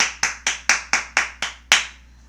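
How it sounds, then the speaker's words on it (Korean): Eight crisp, evenly spaced hand claps in a steady rhythm, close and loud with no voices, the last clap slightly stronger before the sound dies away. "박수!"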